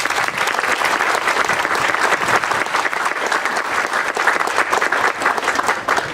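An audience at a science hall ribbon cutting ceremony breaks into steady, dense applause, loud and sustained throughout with no talking over it.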